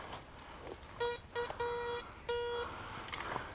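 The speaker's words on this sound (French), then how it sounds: "Là, ça bip de nouveau, pas loin de la première zone." Metal detector sweeping over a buried coin during a militaria relic hunt, giving a series of clear electronic beeps in short bursts, repeated tones that start and stop several times against faint outdoor background.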